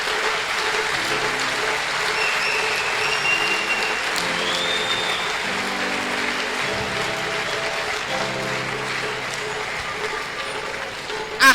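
Sustained audience applause fills a university convocation hall, dense and steady from start to finish, with scattered voices faintly audible beneath the clapping.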